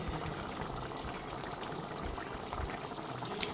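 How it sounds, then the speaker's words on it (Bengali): Mushroom curry with garam masala bubbling in a pan, a steady dense simmer of gurgling, popping liquid that holds at an even level for the whole stretch with no talking. "এই যে এখন ফুটে এসছে, আমি গরম মশলাও দিয়ে ফেলেছি। তো এখন কিছুক্ষণ ফুটবে এইভাবে"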